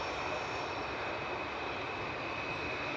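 Ryanair airliner taxiing along a taxiway at Manchester Airport, an even, continuous jet engine hum with a thin high whine, constant in level and close by, no speech.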